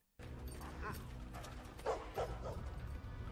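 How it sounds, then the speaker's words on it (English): A dog barks and yips in short bursts as it passes by, fairly faint, with a couple of stronger barks near the middle over a low rumbling background. "A dog passes by while barking"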